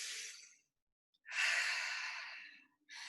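Two long, deep breaths near the microphone, a breathy inhale-exhale swell with a short pause and a third breath starting, taken while standing up from a roll-up during a fitness class.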